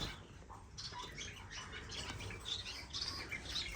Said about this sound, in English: What a gorgeous bird.